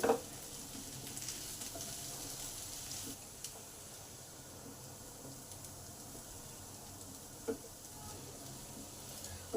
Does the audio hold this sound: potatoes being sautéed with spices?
yes